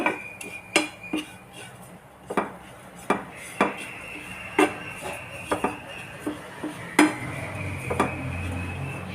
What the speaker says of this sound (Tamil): முதல் வந்து இந்த மாசியை வந்து நல்லா வறுத்துக்கிடுவோம்